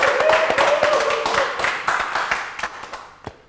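A small group claps after a late-night cooking session, quick close handclaps that start strong and thin out to a few scattered claps, with a faint voice early on.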